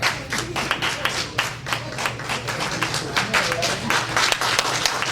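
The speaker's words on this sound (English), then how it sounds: "Give them a hand clap." An audience in a hall claps for recognized guests, a steady patter of many hands lasting several seconds with slight swells, fairly close and moderately loud.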